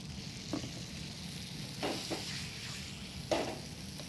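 Tomatoes fry with a steady sizzle in a pan, and a spoon scrapes through them in three or four short stirring strokes over the continuous hiss.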